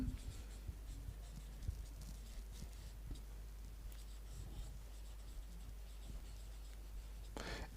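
A pen writes on paper while a rectangular garden path area problem is worked out, with soft, close scratchy strokes over a steady low hum and no talk.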